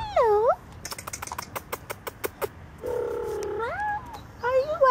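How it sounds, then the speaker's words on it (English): A cat meows in a few loud, wavering calls near a truck outdoors, separated by a quick run of sharp clicking taps, with one longer drawn-out meow in the middle. "And there's a kitty under the truck there."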